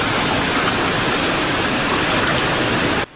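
A river in the village of Nkokwali rushes past after its bridge collapsed, a loud, dense and steady roar of water that fills the whole clip and then cuts off abruptly.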